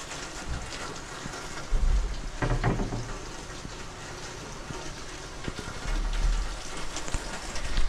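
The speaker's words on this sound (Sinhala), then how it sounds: "හොඳටම වහිනවා." Heavy rain falls steadily outdoors on a walk in Sinaia, Romania, with gusty low rumbles and occasional louder splashes over the continuous hiss.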